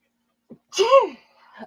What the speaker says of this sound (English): I had to sneeze. I could feel it coming on.